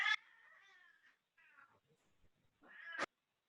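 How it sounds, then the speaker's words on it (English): A house cat meows in the background of an online webinar call, giving a drawn-out meow, a shorter one, and a sharp rising cry at the end, all fairly faint against silence. "Somebody's cat is meowing and we're not on mute"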